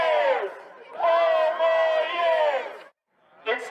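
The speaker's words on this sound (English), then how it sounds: "a crowd of what looked to be hundreds showed up to voice their support for the president" Crowd of hundreds rallying outside a hotel in support of the president, raising loud sustained cheers and chanted shouts in waves, close and full, with a brief pause before another swell starts.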